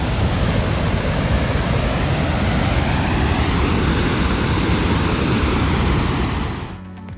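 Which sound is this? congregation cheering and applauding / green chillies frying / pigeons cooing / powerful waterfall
powerful waterfall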